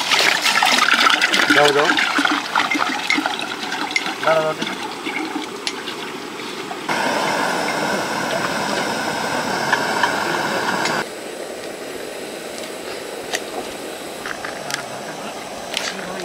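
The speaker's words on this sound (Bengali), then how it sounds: "বন্ধুরা, মাছ ধোয়া আমার কমপ্লিট হয়ে গেছে।" Fish being washed in water, with running and splashing water that shifts in character over several stretches, close by, while a voice speaks briefly over it.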